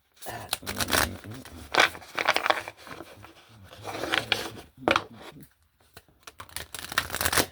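Tarot cards are shuffled by hand in bursts of crisp riffling and sliding, several short rustling runs separated by pauses, close and fairly quiet.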